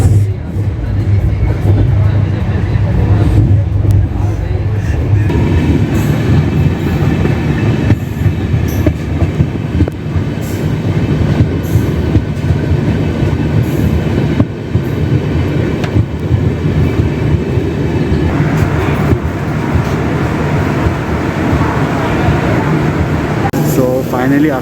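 The Nizamududdin–Yesvantpur Karnataka Sampark Kranti Express running on the rails makes a loud, continuous rumble with rhythmic clatter and a steady hum, heard from close by with a voice talking over it.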